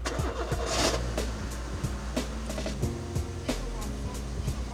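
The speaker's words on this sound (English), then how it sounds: "we'll just try the ignition now" Car ignition tried after an ABS pump replacement, with an engine cranking and turning over close by, uneven mechanical pulses and clicks over a low steady rumble.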